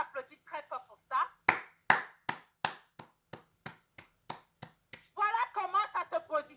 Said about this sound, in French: Est-ce qu'on peut applaudir très fort pour ça?